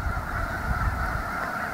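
A dense chorus of many snow geese honking at once, continuous and overlapping, a steady nasal clamor from a large flock packed shoulder to shoulder in rice country.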